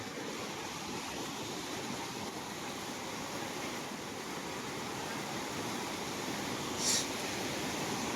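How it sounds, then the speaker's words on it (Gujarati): Water pours at high speed over the overflowing Karad dam in Ghoghamba taluka, a constant broadband roar that stays even and unbroken throughout, with no voices. "અહીંયા તો પાણી કેટલું બધું સ્પીડમાં આવે છે"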